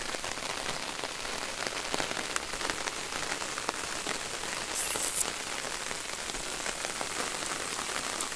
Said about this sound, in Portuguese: Tempo muito nublado aí aquela chuvinha